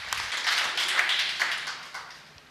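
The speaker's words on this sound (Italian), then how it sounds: "Saranno loro a premiarvi con un applauso." Applause for sandwich competition finalists at a televised food event: a short burst of dense clapping from a small crowd that fades out over a couple of seconds.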